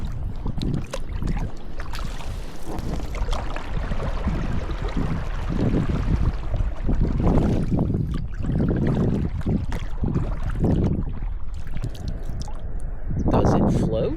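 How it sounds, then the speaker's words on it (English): A boat is paddled with a cheap, low-quality paddle, giving repeated strokes and a steady water wash and splashes close by, with talk over parts of it. "even with a lousy paddle, it still feels great to be paddling"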